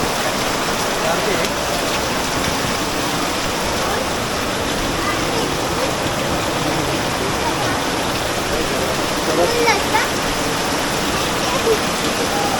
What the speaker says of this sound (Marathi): सकाळपासून पाऊस पडतोच आहे पाऊस काय थांबलेला नाही आहे